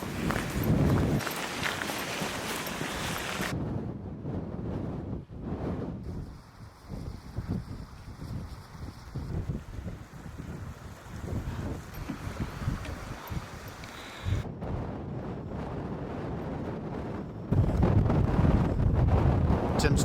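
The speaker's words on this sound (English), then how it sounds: "Really windy, like I say" Strong wind roars and buffets the microphone in heavy gusts while hiking in the Scottish Highlands, easing for a stretch in the middle, with footsteps crunching and a voice heard intermittently.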